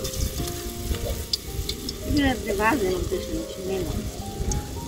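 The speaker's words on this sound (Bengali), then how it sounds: "এই ব্যাচই শেষ ভাজা।" Water lily flower pakoras sizzle steadily in hot oil as the last batch fries, a continuous bubbling hiss with occasional stirring, while people talk nearby.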